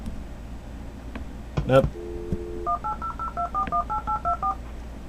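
Telephone keypad tones dial in to AOL over a magicJack line: a run of about a dozen quick, evenly spaced DTMF beeps, clear and close, after a brief click and a short steady tone over a low background hiss.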